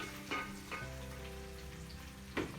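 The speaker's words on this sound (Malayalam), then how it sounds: "സവാള നല്ലോണം ഒന്ന് വഴറ്റിയെടുക്കണം" Onions sizzling in hot oil with ginger and garlic in a pan while making Gobi Manchurian gravy, a steady close fry with a few brief scrapes of stirring, no talking.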